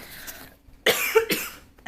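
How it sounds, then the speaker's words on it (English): A person coughs twice in quick succession, close and fairly loud, after a brief quiet pause, with the start of another cough at the very end. "I don't know why I'm coughing"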